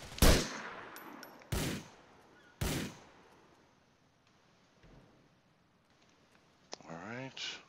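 Gunshots in GTA IV, three loud sharp single cracks spaced about a second apart, then fainter distant shots and a later burst of noise amid quiet background.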